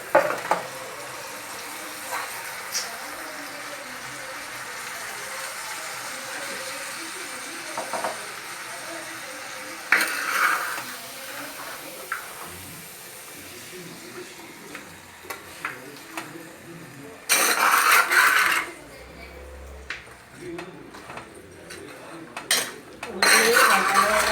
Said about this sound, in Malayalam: ഉള്ളി നന്നായിട്ട് വഴണ്ട് നമ്മൾ മട്ടൻ അതിനകത്തോട്ട് തട്ടുക.